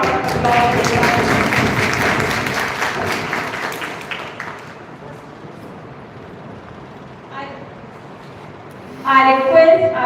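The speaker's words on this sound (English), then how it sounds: "Please give us a few rounds of applause." Applause from an audience at a youth parliament event in a hall, fairly loud at first, then thinning and tapering off, followed by a short burst of voices near the end.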